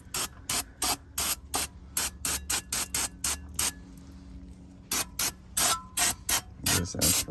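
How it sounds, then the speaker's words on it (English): Brake cleaner sprayed onto the front and rear brake rotors of a 2018 BMW X3, coming as a rapid run of short hissing bursts with a brief lull midway, close and fairly quiet. "This I'm spraying back and front."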